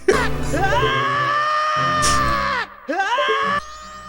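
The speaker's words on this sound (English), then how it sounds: "The Korok baby is Link screaming instead." Link's scream from a Majora's Mask randomizer, swapped in as a game sound effect: loud, strained yells repeating in quick succession over game music, close and dominant.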